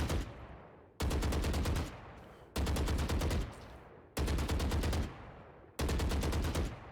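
A spraying gun in Valorant fires five bursts of rapid automatic shots, each lasting about a second, loud and punchy, separated by short pauses with no talk.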